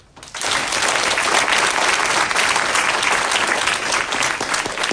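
Sustained applause from a large lecture audience, starting abruptly and holding steady and loud throughout, dense clapping with no talk over it.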